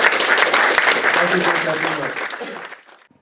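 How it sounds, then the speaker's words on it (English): A crowd claps warmly for a few seconds with voices mixed in, then the applause fades out to silence. "we can give him a warm hand of applause"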